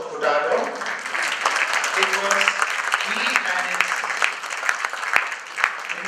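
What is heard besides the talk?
audience applause at reunion speech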